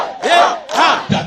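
A crowd at a Congolese gathering erupts in two loud surges of cheering and shouting, close and full, before a low rumble at the end.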